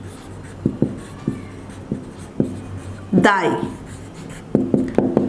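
A pen scratches across paper in short, separate strokes while working an accounting exercise, close and clear, with a quick burst of scribbling midway and talking in between.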